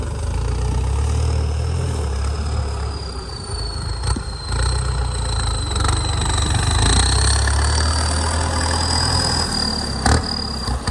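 A Ford tractor engine runs steadily nearby, a constant low throbbing hum with a high whine and a couple of sharp clanks.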